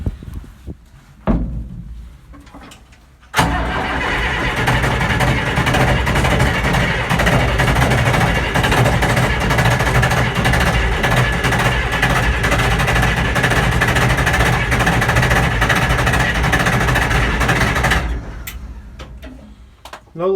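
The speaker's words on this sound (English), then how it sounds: "It's gonna be a cold start for sure." A John Deere 3130 tractor engine cranks in a cold start, a loud, steady churning that runs for about fifteen seconds before cutting off, with no talk over it.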